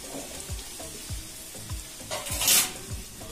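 Chopped ridge gourd and potatoes hiss and sizzle in hot oil with fried onions. The steady frying crackle is close and constant, with a few soft stirring knocks and one brief brighter splutter.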